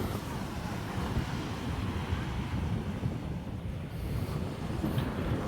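A fishing boat comes in to the shore after a long break from fishing, heard as a steady, loud rumble of engine and wind-blown water noise with no clear breaks.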